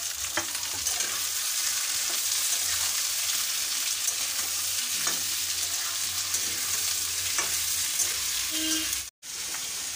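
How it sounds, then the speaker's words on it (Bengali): Onions frying and being stirred in a wok for fried rice, a steady loud sizzle with repeated scraping stir strokes throughout, briefly cutting out near the end. "পেঁয়াজগুলো দিয়ে দেব, পেঁয়াজটা একটু লাল লাল করে ভেজে নেব।"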